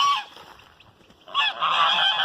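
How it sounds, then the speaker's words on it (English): Geese honk near a garden, a loud call at the start, then a short lull before a noisy cluster of overlapping honks. "Geese."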